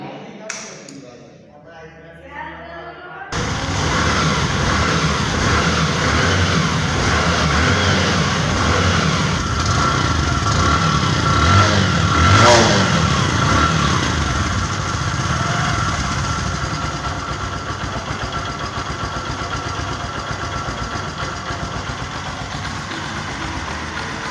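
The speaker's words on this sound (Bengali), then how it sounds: "বাইকটির সাউন্ড কোয়ালিটিটা কিন্তু খুবই ভালো আছে, সাউন্ড খুবই স্মুথ আছে" A motorcycle engine starts up and then runs steadily at a smooth idle, a loud, continuous throbbing hum with a slight swell in the middle before settling slightly quieter toward the end.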